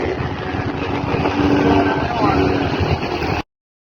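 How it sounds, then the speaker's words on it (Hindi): A heavy motorbike roars past on a city street in Hyderabad in the early morning, its engine a loud, steady rumble that swells and then cuts off abruptly, with speech mixed in. "हैवी बाइक जा रही है भाई सुबह सुबह।"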